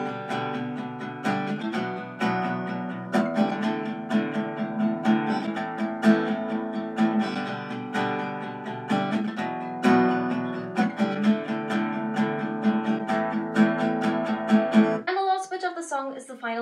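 Acoustic guitar strums chords from a song, loud and close in a busy, steady rhythm, then a voice starts speaking right at the end.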